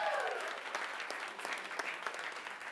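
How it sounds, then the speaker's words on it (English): A stage audience gives a round of applause for volunteers, dense steady clapping that begins loud and carries on for a few seconds with no speech over it. "one more big round of applause for our volunteers on"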